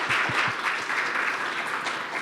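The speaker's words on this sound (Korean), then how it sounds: "큰 박수 부탁드립니다." A seminar audience gives a short round of polite applause for a hospital director, a brief patter of clapping in a medium-sized room, fairly close and even.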